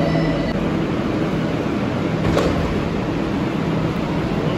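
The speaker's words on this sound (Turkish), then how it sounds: "Ve metromuz geldi arkadaşlar." A metro train arrives at a Tehran station, rumbling steadily nearby with a broad roar of wheels and motors, a faint squeal and a brief clank standing out midway.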